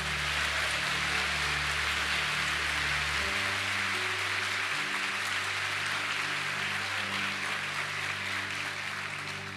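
Broad, hissing applause from a church congregation during a worship service, steady and continuous like rain, fairly faint and distant, with low musical tones sounding underneath throughout.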